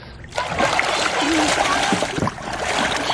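Kids splash and play in a backyard pool filled that morning on a farm, with continuous nearby water churning and splashing while voices talk and call out over it.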